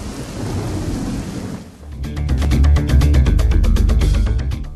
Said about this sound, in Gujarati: ભારે વરસાદે આ તમામ રાજ્યોમાં જાણે કે તારાજી સર્જી છે